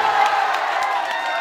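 A crowd at a Bhojpuri star's event cheers and applauds for Vikas Singh in a dense, continuous roar with scattered whoops, loud and sustained throughout.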